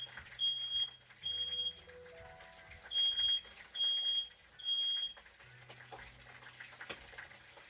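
A kitchen smoke alarm goes off while an African egusi dish is being cooked, sounding five loud, shrill beeping bursts in a regular on-off rhythm over faint household noise.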